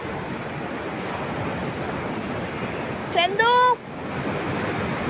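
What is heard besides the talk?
ocean waves at RK Beach, Visakhapatnam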